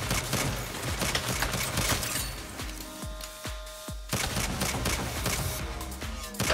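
Pistol shots ring out in the video game Saints Row as rapid, punchy bursts of fire, broken by a short pause with several distinct single shots before dense firing resumes.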